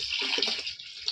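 Tap water runs steadily into a drum being filled for mixing a cleaning solution, a continuous hiss and splash with a few faint lower gurgles, close by and alone.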